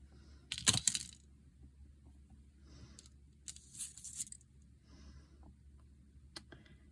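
Wire cutters snip a small piece of 22 gauge half round jewelry wire, giving one sharp metallic click followed by a few faint clinks and handling rustles, close up and quiet with no talking.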